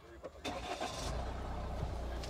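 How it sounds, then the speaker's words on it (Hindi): A Tata Safari engine cranks and catches, then settles into a steady idle, with faint voices in the background. "अभी आपको दिखाते हैं एक बार इग्निशन ऑन करके गाड़ी का"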